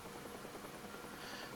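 UH-1H Huey helicopter engine and rotor running steadily after start-up in the DCS flight simulator game, a faint, continuous whine and rotor hum with no talk.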